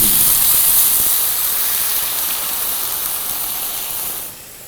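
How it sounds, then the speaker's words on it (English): White wine poured into a hot pan for chicken Vesuvio sizzles in a loud, steady hiss that stays strong and then drops off abruptly near the end, close and without talk. "We're gonna add a little bit of white wine."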